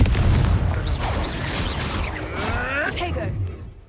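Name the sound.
Confringo explosive spell from video game Hogwarts Legacy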